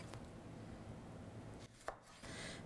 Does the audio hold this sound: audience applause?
no